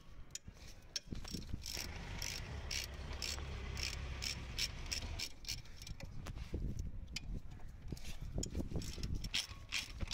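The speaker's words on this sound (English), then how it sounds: "To loosen the guide pins, I'm using a 7mm Allen key socket, small extension and a ratchet." A ratchet with a small extension and 7mm Allen key socket loosens the front brake caliper guide pins on a Ford Focus, producing quiet, rapid bursts of fine mechanical clicking in repeated strokes with brief pauses between.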